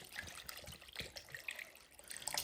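Water from a tap runs into a bowl holding a cleaned wild duck, a steady close splashing trickle with a few brighter drips and no talking.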